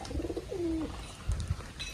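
A pigeon coos nearby in a short, soft, rolling phrase, followed by a brief low second coo and some faint background rustle.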